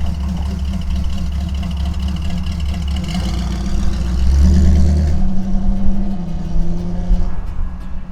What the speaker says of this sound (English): Oh, that was kind of cool. Old kit car.